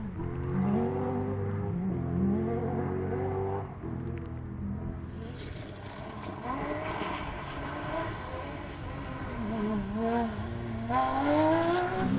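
An all-wheel-drive rally car on an off-road special stage in a Terrafirma AWDC Championship round, its engine revving and shifting through rising and falling pitch, fairly close and continuous.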